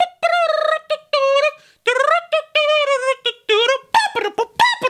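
A voice imitates birds with a run of high, warbling, squawking calls in quick bursts separated by short gaps, loud and close.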